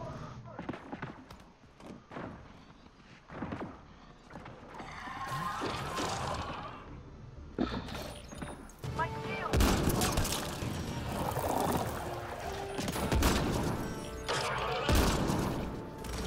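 Gunfire and a headshot in the Mass Effect Andromeda video game, with a burst of sharp shots among dense layered battle effects and music, loud throughout.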